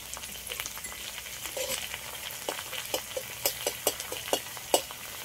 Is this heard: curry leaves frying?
yes